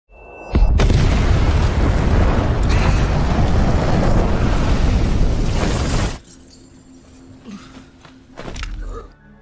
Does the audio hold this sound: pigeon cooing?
no